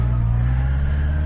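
A Honda CB650R motorcycle with E-Clutch, shifted into first gear, rumbles loudly and close with a steady engine note, starting to accelerate over a brief moment.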